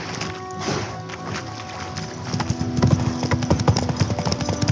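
Roach the horse gallops in Witcher 3, hooves clip-clopping in a steady, close rhythm that grows louder and heavier toward the end, with a brief whinny-like texture early on.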